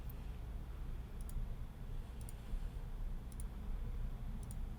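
A computer mouse clicks through online survey answers, four faint evenly spaced sharp clicks about a second apart over a low steady room hum.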